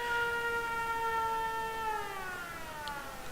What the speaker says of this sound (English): And when I switch off the siren,